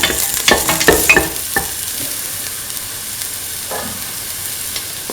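Shallots sautéing in a pan for a mint kidney bean stew, with a steady sizzle and sharp scraping stirs clustered early, then quieter frying with an occasional stir near the end.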